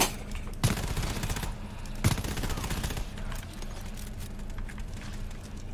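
Automated turrets in the co-op shooter GTFO fire in sustained rattling bursts, with a couple of sharper heavy bangs standing out amid the steady gunfire.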